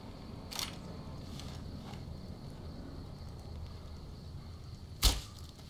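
A suppressed pistol in Fallout: New Vegas fires a single short, muffled shot near the end, with faint soft thumps before it over a quiet ambient hum.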